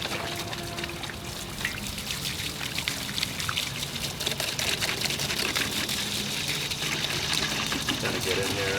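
Running water poured and splashed over an arcade monitor being washed, a steady broadband rush with dribbling and trickling throughout, fairly close and continuous, with speech faintly under it.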